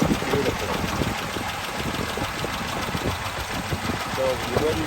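A 1929 Marmon Roosevelt 8 engine idles steadily at close range with a continuous low rumble and faint rhythmic ticking, with occasional speech nearby.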